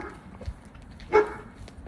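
A dog on an outdoor New Year's walk gives a single short bark partway through, over quiet street background, with no talking.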